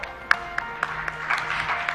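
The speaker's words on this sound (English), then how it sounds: "Well, the applause mustn't stop." Audience applause at a real estate awards ceremony, scattered moderate clapping with distinct individual claps rising and falling over steady room tone.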